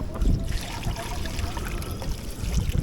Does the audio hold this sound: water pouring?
yes